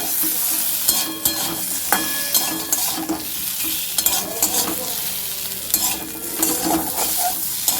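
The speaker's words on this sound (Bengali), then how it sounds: "পেঁয়াজটা একটু সামান্য ডিপ ফ্রাই হয়ে গেছে" Onions slightly deep-fried in oil sizzle steadily in a pan while being stirred, with repeated scraping and clinking strokes of a utensil against the metal throughout.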